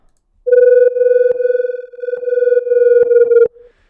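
UK bass music track played back in mono, reduced to a single steady, hollow tone whose level wobbles and dips as it phases, with a few soft clicks, lasting about three seconds before cutting off.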